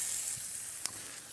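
Stuffed quail sizzling on a Camp Chef grill box, a steady, close frying hiss with one brief sharp pop partway through.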